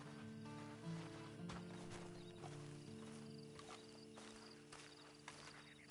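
Video game horse hooves clop along at a steady walking pace over a constant low hum, with a horse-like snort partway through.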